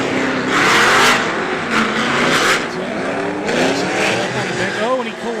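Drift cars launching at Lake Erie Speedway with a BMW leading: loud revving engines bounce off the limiter in rising and falling sweeps amid tire squeal, while a commentator talks over them.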